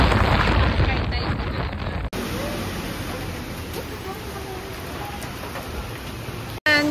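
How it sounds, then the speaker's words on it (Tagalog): Heavy rain pours down in a loud, dense, steady roar, close and continuous with short breaks, while voices talk faintly underneath. "sumilong muna kami kasi ang lakas ng ulan"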